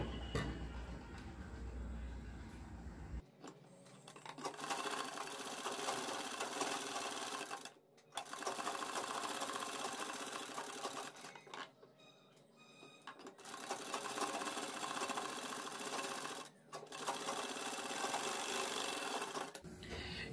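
A sewing machine stitches piping around a kurti neckline in long, fast, rhythmic runs of whirring stitches, separated by brief pauses, at a moderate distance.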